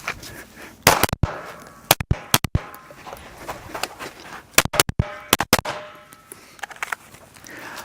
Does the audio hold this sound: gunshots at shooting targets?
yes